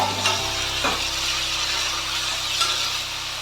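Tomatoes sautéing in a hot pan for chutney give off a steady, close, dense sizzle with a few soft stirring scrapes and no voices.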